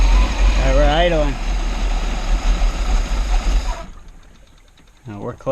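Chevy 350 V8 boat engine, rebuilt and fitted in a Regal cuddy cabin boat, idles with a steady low rumble; a voice talks briefly over it early on, then the engine cuts out near the end.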